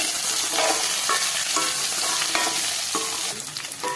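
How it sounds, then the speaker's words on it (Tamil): Onions, green chillies and ginger sautéing in a pan for kadalai curry, a steady close sizzle broken by repeated scraping stirs of a spatula, with no voices. "இது எல்லாமே நல்லா வதங்கும் இந்த வெங்காயத்தோட சேர்த்து."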